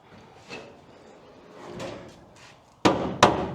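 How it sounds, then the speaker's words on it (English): A couple of soft knocks and creaks, then two sharp, loud thumps close together as the door of a 1953 Chevrolet Bel Air is worked open. "let me open the door."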